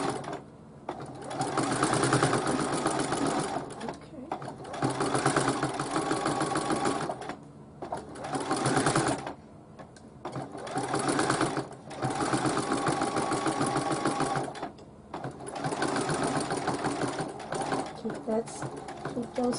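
A sewing machine stitches a pillowcase with an eyelet ruffle border in a run of steady rapid mechanical whirring bursts that stop and start, close up, with someone talking in the pauses.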